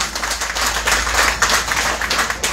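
A crowd claps and applauds steadily at a Barisan Nasional political rally for the Johor state election, a dense, continuous wash of hand claps sustained throughout without speech.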